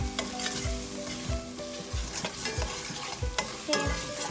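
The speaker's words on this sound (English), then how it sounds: "we're gonna slowly add our tomato sauce" Tomato sauce is poured into spices in a hot pan for paneer tikka masala and stirred in, with a loud sizzle, repeated scraping strokes of the spoon and clinks against the pan, close up and without speech.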